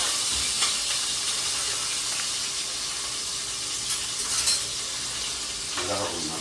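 Chilies fry in oil on a hot griddle, giving off a soft, continuous sizzle and hiss with a few faint scrapes and clinks from the pan.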